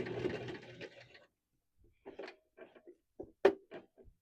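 A home sewing machine back stitches over a handle while making a wristlet from a dish drying mat, giving a dense stretch of whirring stitches first, then silence and a few short bursts of machine sound.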